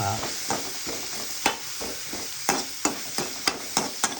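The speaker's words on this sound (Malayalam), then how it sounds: "കയ്യിലെടുത്ത് ഉള്ളി നന്നായി ഇളക്കുക" Onions fry in a pan under a constant soft sizzle, while a spoon stirs them with regular scraping knocks against the pan that grow sharper and more rhythmic toward the end, close and without speech.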